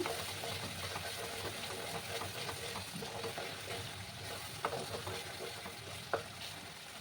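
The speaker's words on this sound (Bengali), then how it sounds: "সামান্য একটু গরম জল আমি অ্যাড করে দেবো, দিয়ে মশলাটাকে ভালো করে কষিয়ে নেব।" Masala with tomato and a splash of hot water sizzles and fries in a pan for echor chingri, a steady close hiss with occasional scrape and clink of a stirring spoon.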